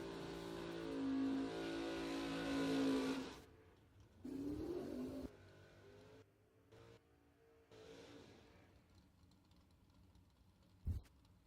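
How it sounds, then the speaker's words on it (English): A Mustang and a Camaro drag racing at a bracket racing event, engines roaring hard under acceleration then fading away down the track, with a later rev and a sharp knock near the end. "Right side, Robert Holton in the Mustang, dials up a 550. Camaro on the left side dialed 596"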